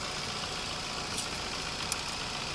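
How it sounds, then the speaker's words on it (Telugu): The engine of a used car idles with a quiet, steady hum, even and low in level, with a couple of faint ticks and no talk. "ఇంజన్ కూడా చూడండి ఎంత సైలెంట్ ఉందో,"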